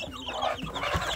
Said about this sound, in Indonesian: Pagi hari ini saya memvideokan anak ayam kampung saya sedulur. Ini ada yang sedang makan pur, ada juga yang sedang minum